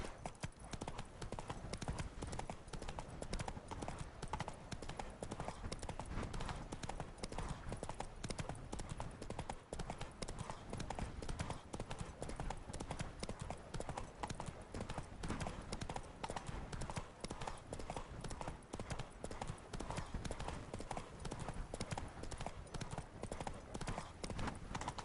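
A ridden horse in The Witcher 3: Wild Hunt clip-clops steadily along, a dense continuous rhythm of hoofbeats at an even pace that runs throughout the stretch.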